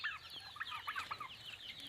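Local chickens cluck around a feeder, a cluster of close, overlapping short clucks and calls running steadily through the whole stretch with no talk.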